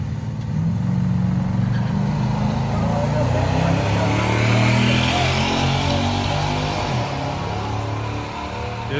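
A drag-racing Chevrolet Malibu roars at Music City Raceway, its engine a loud, sustained rumble that holds steady for the whole stretch and swells slightly midway.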